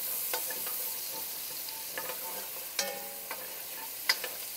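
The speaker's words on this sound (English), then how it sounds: "Alright, we're just going to do these a quick saute." Garlic sautés in a pan for Zuppa Toscana, a soft steady sizzle with scattered light clicks of a utensil against the pan and a couple of sharper taps, fairly quiet and with no talking.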